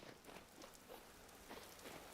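Steady rain falls in the video game Vintage Story, a soft continuous patter on the ground, faint and even throughout with no talking.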